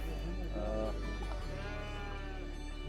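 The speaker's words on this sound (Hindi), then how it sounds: "ये बकरियों का बाज़ार है" Goats bleat at a crowded livestock market in Afghanistan, their wavering cries rising over a constant background of murmuring people and noise.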